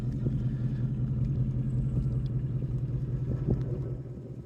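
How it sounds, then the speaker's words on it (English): A 2021 Roush Stage 3 Mustang's active exhaust with an X-pipe rumbles low and throaty at a steady idle, close by, with no one talking. "Man, this thing sounds so good."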